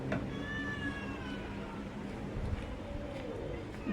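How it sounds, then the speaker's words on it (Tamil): Kittens meowing at home, several thin high mews rising and falling over a noisy background, fairly faint, with a person talking alongside. "பாருங்க எங்கள் வீட்டு பூனைக்குட்டிங்களா"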